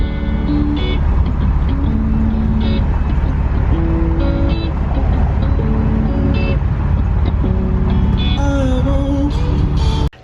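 A Ford Mustang Fastback on a test drive after a breakdown repair gives a loud, steady engine and road rumble from inside the car. Tonal whines shift in pitch throughout, and the sound cuts off abruptly at the end.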